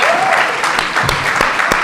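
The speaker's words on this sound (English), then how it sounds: "Well, round of applause, Jennifer." Audience applause at a finance talk on investing, saving and managing money, a dense steady patter of many hands lasting about two seconds, with a few voices briefly audible within it.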